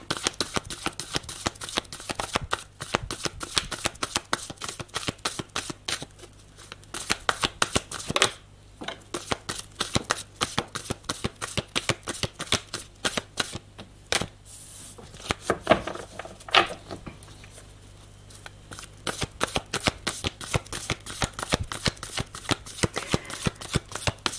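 Playing cards being shuffled during a card reading, giving a long run of close, crisp riffling and flicking bursts that repeat steadily with only brief pauses.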